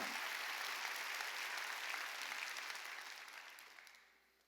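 A church congregation at a New Year's Eve service bursts into dense, sustained applause that holds steady and then fades away near the end.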